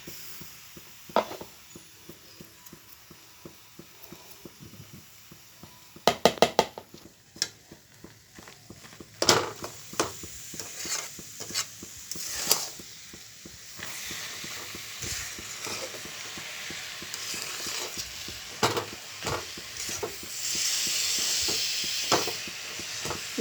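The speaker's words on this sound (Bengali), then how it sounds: "গুড়ের মধ্যে নারকেলটা ভালোভাবে মাখিয়ে নেব।" Grated coconut is stirred into melted jaggery in a pan, with a soft hiss and sizzle under repeated scraping strokes and clinks of a spoon against the pan, steady and close.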